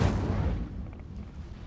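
An Incendio fire spell blasts in Hogwarts Legacy, a heavy deep boom up front followed by a rumbling tail that stays steady and fairly loud.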